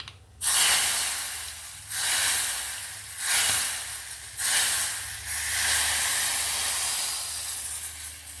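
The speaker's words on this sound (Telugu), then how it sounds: "ఇప్పుడు తిరగమాత వేసేస్తున్నానండి." Hot tempering hits a tamarind greens stew with loud, close sizzling that swells in several bursts of hissing and steam, then settles into a steady fizz.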